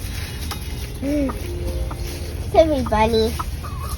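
Several chickens cluck in short bursts at close range, mixed with farmyard background noise, while someone talks over them and remarks on a pet rabbit.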